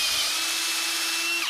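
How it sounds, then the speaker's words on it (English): A power drill whines steadily and loudly while drilling out part of a 24V Lishen 272Ah LiFePO4 battery, one continuous high-pitched run that winds down abruptly at the end. "Or we could just drill this side out."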